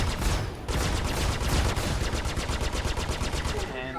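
A spaceship in the Asteroids v2.0 game firing rapid bursts at asteroids, a fast even stream of close, loud shots rattling almost continuously before cutting off near the end.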